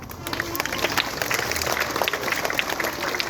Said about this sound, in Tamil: மாணவ செல்வத்திற்கு நமது பள்ளியின் சார்பாக நெஞ்சார்ந்த பெரிய கைத்தட்டலை கொடுத்துடலாம்